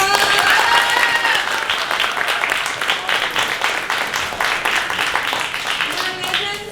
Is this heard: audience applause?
yes